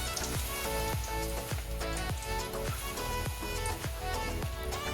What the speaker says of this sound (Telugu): ఇప్పుడు డీప్ ఫ్రై చేసుకోవాలి.